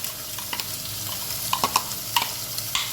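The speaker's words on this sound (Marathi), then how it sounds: "कांदा छान ब्राऊन झालाय छान फ्राय करून घ्यायचं आहे" Onion browning in hot oil for a village-style chicken biryani, giving a steady close sizzle with occasional soft stirring clicks and scrapes, and no talk.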